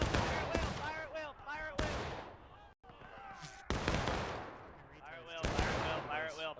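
Musket volleys crack out in a War of Rights battle with a large crowd of players, loud overlapping shots over shouted voices giving orders and cheering.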